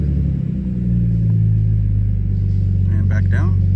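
A 1998 Nissan Skyline R34 25GTT, still cold, revs smoothly up to about 3,000 rpm from idle with a steady, deep, close engine drone. Someone speaks briefly near the end.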